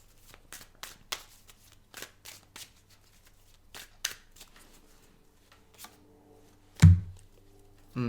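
Tarot cards being drawn and shuffled from a deck, a run of short papery flicks and slides at close range, ending with a firmer card slap.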